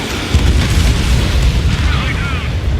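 Heavy, rumbling explosions in Ace Combat 7 as enemy transport aircraft are destroyed on an air base, forming a sustained loud low boom with voices over the top.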